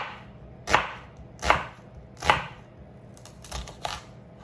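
A kitchen knife slices down the center of a vegetable on a cutting board, landing three evenly spaced, crisp chops followed by a few lighter cuts. The cuts are close and clear, with quiet pauses between them and no talking.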